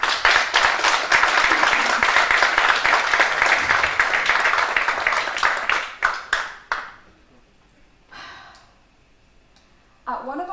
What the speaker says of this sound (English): Round of applause, Emma Davis.